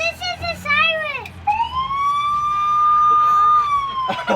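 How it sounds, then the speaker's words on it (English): A loud, close community emergency siren in Falmouth wails, rising and falling a few times before settling into one long sustained tone. "This is a siren!"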